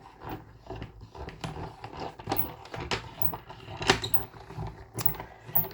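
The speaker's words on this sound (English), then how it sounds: "I'm going to put a plate on top, and I'm going to crank it through" A cut and emboss machine cranks plates through with soft, irregular mechanical creaks and clicks, quiet and close, with no talk.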